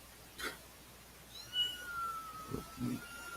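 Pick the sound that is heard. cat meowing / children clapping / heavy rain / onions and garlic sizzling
cat meowing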